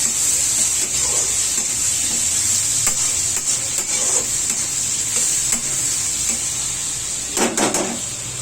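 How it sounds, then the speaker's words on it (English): Tomato being stirred into fenugreek leaves and fish in a frying pan, a continuous close sizzle with a bright hiss, intermittent scraping stirs and a louder clatter near the end, no talk. "Now it's time to add tomato. Mix it thoroughly again."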